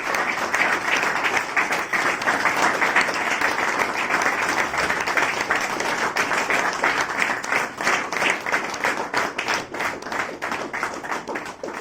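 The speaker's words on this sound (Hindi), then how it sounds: "पहले तो इसके लिए जोरदार तालियां।" A crowd gathered to mark a full year of sobriety gives dense, continuous applause that stays strong for about twelve seconds before thinning slightly toward the end.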